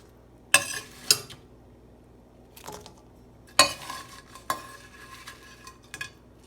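Broccoli and tofu stir-fried in a pan for General Tso's tofu: a utensil clanks sharply against the pan several times over a low, steady sizzle, with no talk.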